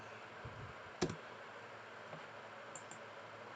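A single sharp key click on a Sinumerik 808D CNC milling control keypad, typing a semicolon, stands out once against a quiet background hiss, followed by a couple of fainter ticks.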